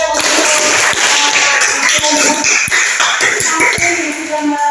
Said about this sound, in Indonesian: Mari kita berikan tepuk tangan untuk